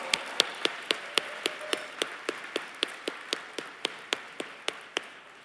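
Slow, evenly spaced single claps ring out at a political club gala, a sparse steady rhythm of sharp handclaps from only a few people rather than full applause.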